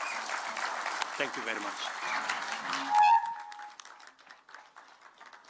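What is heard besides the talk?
audience applause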